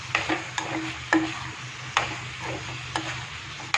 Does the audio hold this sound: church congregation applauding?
no